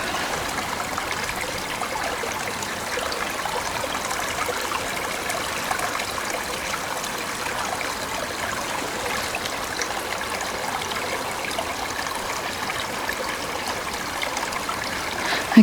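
A river flows through a forest, a steady rushing and trickling stream heard continuously at moderate loudness with no talking.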